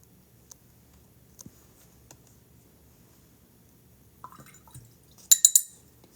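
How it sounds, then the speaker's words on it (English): Watercolor paintbrush rinsed in a water container: quiet soft taps and small liquid swishes in near silence, ending with a brief cluster of sharper clinks and splashes. "we're going to have to clean the brush quite a bit"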